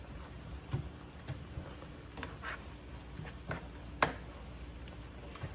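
Corned beef sizzles in hot oil in a pan for a breakfast with eggs, a steady quiet crackle with scattered sharper pops, heard alone and close.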